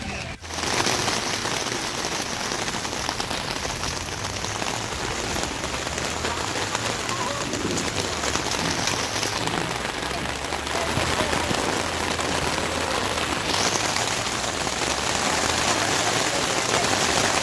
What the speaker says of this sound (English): It's a rainy 4th of July this year.